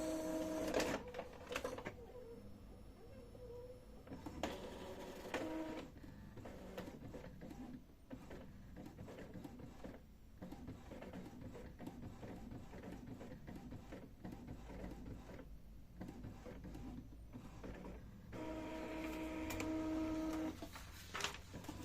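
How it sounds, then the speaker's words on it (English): An Epson L3151 inkjet printer prints a nozzle check page, its motors whirring and rattling with repeated carriage passes and paper-feed clicks at a low, steady level. No voices are heard. "And we are waiting for the printout of the nozzle check."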